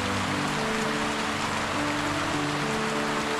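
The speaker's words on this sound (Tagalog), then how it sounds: "Ang lakas ng ulan." Heavy rain pours steadily onto surfaces nearby, a dense continuous hiss with no breaks.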